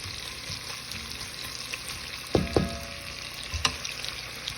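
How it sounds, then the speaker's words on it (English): Onions simmering in butter and olive oil for caramelizing, a soft steady sizzle in the pan, with a couple of brief clinks of a utensil partway through. "let them simmer in the butter and the olive oil"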